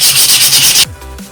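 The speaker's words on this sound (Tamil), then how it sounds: "இது சாண்ட் பேப்பரு, இது வந்து 80 கிரேட்." 80-grit sandpaper rubs back and forth on a knife handle in rapid, close, rasping strokes that stop abruptly partway through, leaving a quiet low hum.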